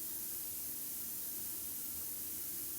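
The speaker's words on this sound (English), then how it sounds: "magazine. We'd be spraying it." Cleaner sprayed onto a magazine in a prison simulator video game: a steady, faint hiss that runs evenly through the whole short stretch, with no other sound.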